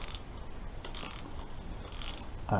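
A corroded steel bolt in aluminium on a Kawasaki ZX10B motorcycle creaks and grinds as it loosens, giving uneven ratchet-like mechanical bursts that close in a louder crack.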